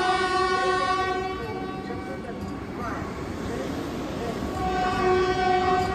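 A Vande Bharat Express train running between Anand Vihar and Dehradun, loud and steady with continuous rail rumble and a sustained tonal horn that fades and returns, with a voice speaking over it.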